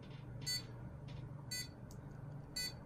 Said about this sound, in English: this is actually for the buzzer. Notice it's playing a tone.